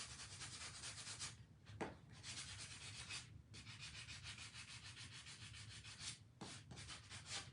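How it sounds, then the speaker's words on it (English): Steady abrasive rubbing of sandpaper over a henna-decorated pumpkin, taking off unwanted chalk paste around the edges, with continuous scratchy strokes broken by a few brief pauses. "I'm just gonna sand it right off."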